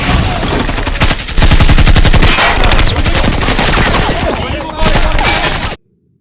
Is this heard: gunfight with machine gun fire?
yes